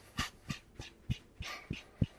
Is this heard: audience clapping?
no